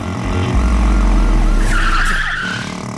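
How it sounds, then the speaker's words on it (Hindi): Car tires squeal and skid loudly as the car swings hard to the right, with a rumbling engine beneath and a sustained screech, in a dubbed South Indian movie chase scene. "चल राइट मोड़ गाड़ी।"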